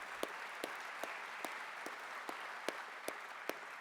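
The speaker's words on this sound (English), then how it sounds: "Let's give them a round of applause" At an Iowa Faith & Freedom Coalition spring kickoff dinner, the audience claps for legislators in a faint, distant wash, with about nine evenly spaced sharper claps ringing out at a slow, steady beat above it.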